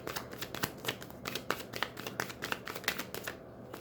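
Tarot cards being shuffled by hand, a rapid run of crisp riffling and flicking card sounds, close and fairly quiet, with no talk over it.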